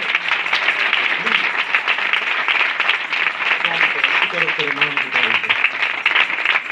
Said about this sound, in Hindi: आखिर में एक बार अपने लिए ही जोरदार तालियां बजाइए।